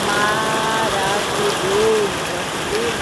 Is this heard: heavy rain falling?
yes